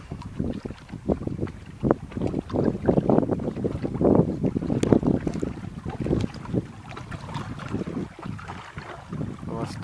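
Gusty east wind on the Dnieper river buffets the microphone in loud, irregular roaring bursts, with faint water and boat sounds beneath, close and continuous.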